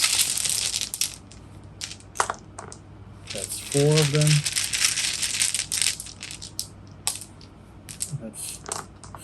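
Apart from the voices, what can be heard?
dice rolling during Roll Player board game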